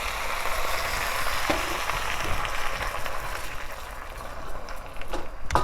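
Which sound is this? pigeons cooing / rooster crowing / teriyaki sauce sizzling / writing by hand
teriyaki sauce sizzling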